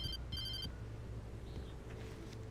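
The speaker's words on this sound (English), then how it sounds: "Answer the phone, Alan." A telephone rings in Alan Wake Remastered, with two short bursts of ringing near the start that sound fairly faint under a steady background hum.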